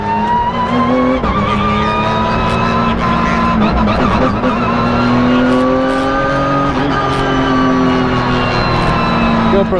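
A Porsche 992 GT3 Cup race car engine drones loud and close from the cockpit while driving, a steady high-pitched whine rising and dipping slightly with throttle changes and occasional clunks of gear shifts, no speech.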